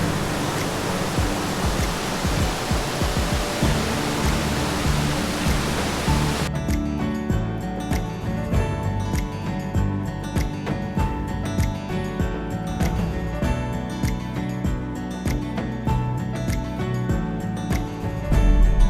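A mountain stream tumbles down as a small waterfall in Martvili, Samegrelo, Georgia, making a continuous dense rushing hiss of falling water that stays steady and close throughout.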